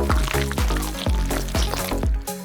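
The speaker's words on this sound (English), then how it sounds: "let's pour some white chocolate into a bowl." White chocolate poured into a bowl while making a cooking-battle treat, a thick liquid stream with soft rhythmic glugs and plops repeating roughly every half second, close and fairly loud over a tonal background.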